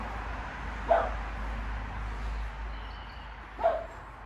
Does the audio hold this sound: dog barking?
yes